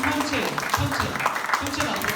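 A youth congregation at a Korean church's Sunday middle-school worship service applauds steadily and moderately loud while a leader keeps talking over the clapping.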